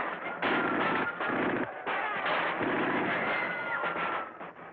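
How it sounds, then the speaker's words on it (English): Heavy gunfire rattles through the streets of central Paris during the 1944 liberation, muffled, dense bursts of shots and booms in an old, narrow-band wartime recording, continuous and loud. "Soon they were shooting all over central Paris."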